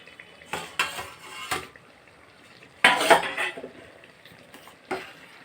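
A metal lid lifted off a pot of egg chicken biryani clanks sharply twice, near and fairly loud, among scattered quieter utensil knocks and pan clatter in a quiet kitchen.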